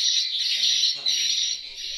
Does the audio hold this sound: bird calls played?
yes